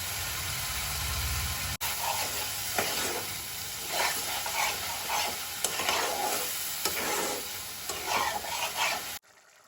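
Small fish frying in a pan: a steady, close hiss of sizzling oil broken by stirring scrapes and occasional pops, which cuts off abruptly at the end, with no talking.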